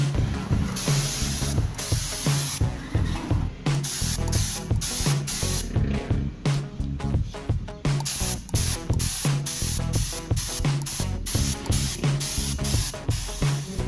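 A spray gun lays metallic silver base coat onto a Honda PCX 160 mag wheel, loud close hissing bursts that start and stop in quick pulses, one after another without pause for speech.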